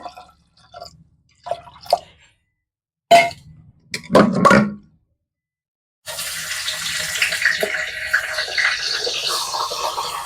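Water poured into a pot of chickpeas with bay leaves, a few short splashes and drips followed by a steady close pouring stream lasting several seconds.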